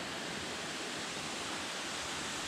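Erawan Falls in Kanchanaburi, Thailand, a steady loud roar of cascading water, broad and continuous with no pauses, heard close to the falls.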